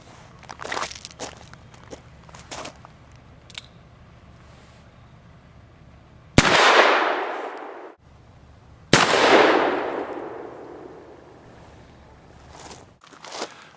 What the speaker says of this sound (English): let's see what kind of speed we can get out of Kaido's conicals when we push them with 777